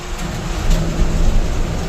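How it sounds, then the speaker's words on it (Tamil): Steady rain hisses over a low, rumbling background, heard from inside a moving Ashok Leyland truck. "அது நல்லாவே மழை வருதுங்க."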